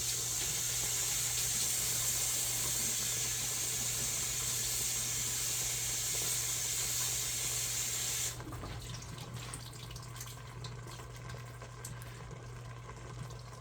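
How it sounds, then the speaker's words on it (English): Tap water runs steadily into a kitchen sink, rinsing cooked pasta noodles for bacon Alfredo, a close, constant hiss with a low hum beneath that drops to a quieter trickle partway through. "So I had just rinsed them because the noodles were sticking together pretty quick."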